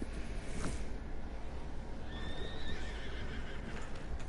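A horse in Red Dead Redemption II whinnies clearly against a steady background wash, with a few soft hoof clip-clops and a brief higher tone later on.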